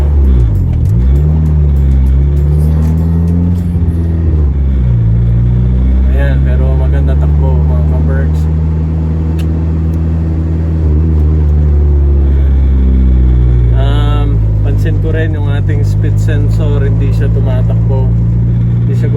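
A repaired EK hatchback's engine idles and revs, its steady drone climbing and sagging in pitch across the stretch, with someone talking over it.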